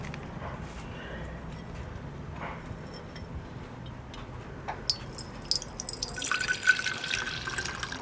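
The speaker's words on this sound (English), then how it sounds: "So now I'm gonna pour off the liquid so I can recover the gold" Liquid is poured off a gold precipitate recovered from computer chips: faint trickling and dripping, quiet at first, then a brighter splashing pour toward the end.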